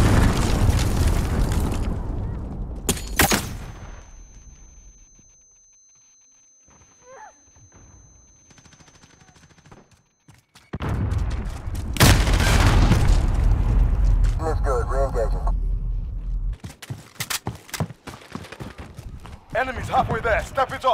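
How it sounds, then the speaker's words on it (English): A cruise missile strikes in Call of Duty, landing as a loud, deep explosion with a rumbling tail, followed by a quieter lull and then a second heavy blast with lingering gunfire and battle noise under a voice. "Enemy cruise missile incoming!"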